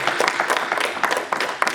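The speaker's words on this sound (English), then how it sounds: "Can you clap your hands for us, please?" A church audience claps their hands together in a dense, fast, even stream of applause filling the room, loud and continuous with no voices over it.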